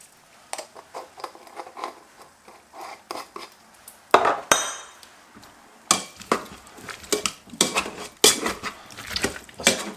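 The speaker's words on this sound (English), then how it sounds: "Just mash it up like this" Food with chili and black pepper being mashed in a bowl, with repeated close clinks and scrapes of a utensil against the dish in an irregular rhythm, with no talking.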